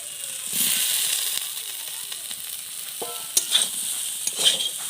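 Boiled pond snails (gugli) and fried potato sizzle and hiss in a hot pan while being stirred, with scraping and clinking of a utensil near the end.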